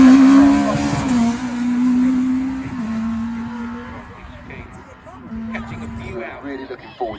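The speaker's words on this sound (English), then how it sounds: "We have got another car in the bale, yeah." A rally car on a stage of the East Riding Stages Rally on East Yorkshire lanes, its engine droning and fading, with a commentator talking over it throughout.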